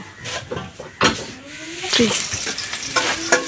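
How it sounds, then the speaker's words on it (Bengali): Onion and garlic frying in oil in a kadai, a steady sizzle with stirring and scraping knocks, heard close under a faint background voice. "পেঁয়াজ রসুন দিয়ে দিচ্ছি তেলের মধ্যে"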